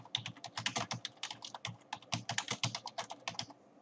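Text is typed on a computer keyboard in a rapid close run of distinct key clicks, steady rhythm with short pauses, quiet room and no speech.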